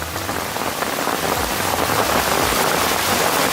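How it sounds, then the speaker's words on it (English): Heavy rain hammers down on a bivvy shelter at a fishing lake, a dense, steady roar of drops with no letup and no voices. "That rain is coming down heavy now."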